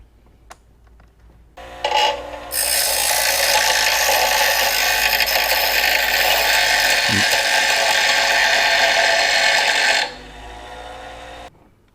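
A power drill whirs loudly and continuously for about eight seconds after a brief start-up while drilling a Honda Goldwing GL1800 trunk panel, then cuts off, leaving near silence.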